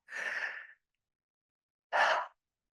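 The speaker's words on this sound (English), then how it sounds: "Take 3 deep breaths." Two breaths taken during a relaxation exercise, each a soft airy exhale. The first is longer and gentler and the second is shorter and louder, separated by about a second of silence.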